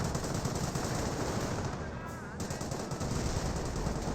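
Rapid machine-gun bursts and heavier mortar impacts crackle through a Company of Heroes battle as a Wehrmacht sniper fires, a dense, continuous barrage of close gunfire without pause.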